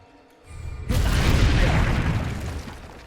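An Incendio fire spell cast in Hogwarts Legacy bursts into a loud whooshing roar of flame that swells quickly and holds as a dense, sustained crackling rush before easing slightly.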